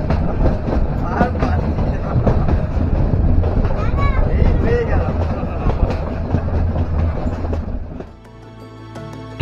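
Train wheels clatter and rumble steadily on the rails from inside a moving carriage, loud and continuous with some squeals, before the noise drops sharply near the end as the train slows.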